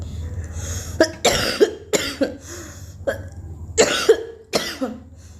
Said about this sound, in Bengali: খালি কাশি হচ্ছে